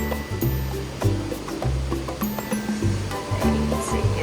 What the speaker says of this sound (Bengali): জলের প্রচণ্ড স্রোত